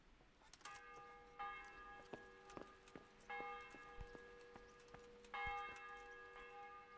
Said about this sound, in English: That's probably just the church bells.